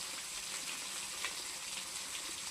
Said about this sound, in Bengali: এবার আমি খুন্তির সাহায্যে বাটা মাছগুলো এপিট ওপিট আস্তে আস্তে উল্টে উল্টে ভেজে নেব।